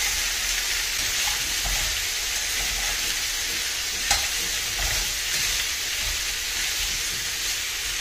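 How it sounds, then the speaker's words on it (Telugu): Cut sweet potato pieces fry in a pan over a medium flame, giving a steady, even sizzle with a few faint stirring scrapes and small pops beneath it. "మీడియం ఫ్లేమ్ మీద పెట్టుకుని వేపుకోవాలండి"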